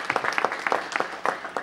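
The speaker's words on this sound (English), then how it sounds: "please give her a round of applause as well" Applause at a city council meeting honors a guest's mother, a modest round of clapping from a small audience with distinct individual claps in an irregular patter, fairly close and moderately loud.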